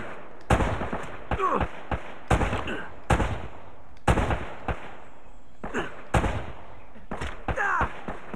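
Video-game gunfire from Uncharted during a battle in ruins: loud, sharp shots and short bursts that crack out repeatedly across the whole stretch, each one decaying quickly before the next volley.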